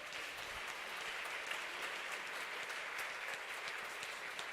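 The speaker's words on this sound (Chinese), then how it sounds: "让我们鼓励一下，拍手欢迎你们" A church congregation at a Sunday service claps to welcome visiting guests. The applause is steady and even, runs the whole time and sounds moderately distant, with no voices over it.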